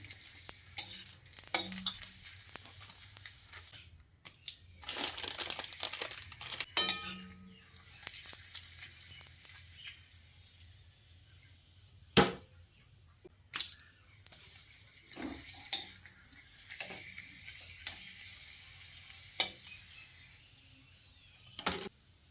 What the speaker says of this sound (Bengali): তারপর এই গরম তেলে 4-5টা মতো পাঁপড় ভেজে নিচ্ছি